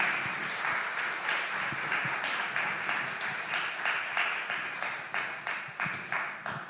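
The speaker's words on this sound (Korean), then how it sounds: "주신 하나님께 우리 가장 큰 영광의 박수 올려드리겠습니다." Church congregation at a Sunday youth worship service clapping in praise, a steady, moderately distant round of many hands with individual claps standing out toward the end.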